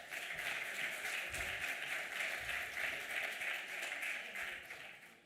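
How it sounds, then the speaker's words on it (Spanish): An audience at a cultural heritage conference in Aragón gives a warm round of applause, steady crowded clapping at moderate distance that tapers off toward the end. "Un fuerte aplauso para él."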